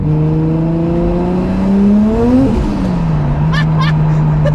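A turbocharged 2JZ engine in a Nissan Silvia S15 pulls hard and climbs in pitch, then drops back as the revs fall, with a couple of sharp hissing wastegate chirps. The sound is loud and close, from inside the car.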